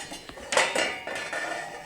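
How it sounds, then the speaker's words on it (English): A metal cover is lifted off a cooking pot at a heavy rolling boil while making octopus and clam linguini, giving a couple of bright clanks and a scrape, then bubbling hiss close by. "we're going to take the pot off, cover off the pot"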